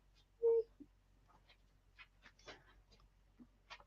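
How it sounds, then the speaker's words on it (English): A dog lets out a short, high whimpering cry like a crying puppy, followed by faint scattered snuffles and soft breathy sounds in a quiet room. "Now that usually gets Jug when he hears the puppies, you know, another dog crying."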